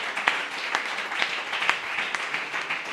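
A church congregation claps together, a steady spread of many hands with a few sharper individual claps standing out, moderately loud and continuous through the short stretch.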